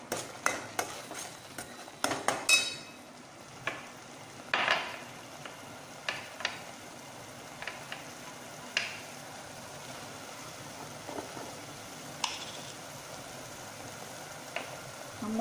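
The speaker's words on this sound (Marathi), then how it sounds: "हे बघा बघा असा चांगला मसाला भाजून घ्यायचा." Spice masala dry-roasting in a pan for village-style mutton curry: a faint steady sizzle with scattered clicks and scrapes of a spoon stirring against the metal pan, close and without talk.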